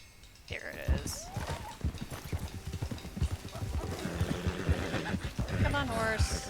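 Horse hooves clop in Red Dead Redemption 2 alongside brief whinnies from a loose stallion, uneven hoofbeats moving under a player's speech, with the game's ambient sounds around them.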